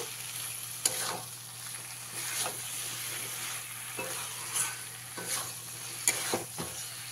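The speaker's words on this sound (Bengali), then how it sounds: "আলুটা দিয়ে ভালো করে মিশিয়ে দেব।" Fried potatoes stirred into a simmering fish curry with bottle gourd stems in a pan, a soft steady sizzle broken by several scraping spoon strokes at irregular intervals, close by and with no talking.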